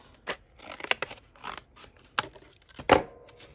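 Packaging for a paper punch being torn and cut open makes a handful of sharp, close snips and crinkly tears in an uneven rhythm, separated by brief quiet gaps.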